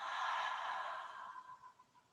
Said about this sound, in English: Big open mouth exhale.